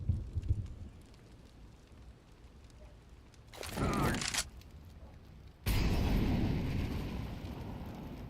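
Video game grenades go off in two loud, broad bursts, one brief and one sustained roar that carries to the end, over a low rumbling background.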